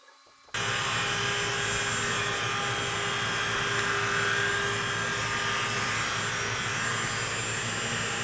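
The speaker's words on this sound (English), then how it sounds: "the Dremel tool was spitting stuff in my face" A Dremel rotary tool grinding on aircraft wing parts during an RV-14A build, starting abruptly after a quiet moment and then running as a loud, steady high-pitched whine without a break, close by with no talking.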